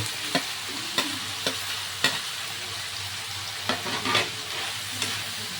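Cabbage and Baguio beans sautéing in a pan, giving a steady close sizzle broken by the regular scrape and clack of a stirring utensil, with no voices.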